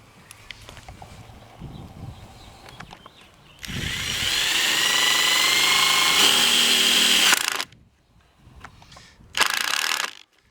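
A power drill whirs loudly for several seconds as it drives a screw into wood, then stops; a shorter burst follows after a pause amid faint handling noises.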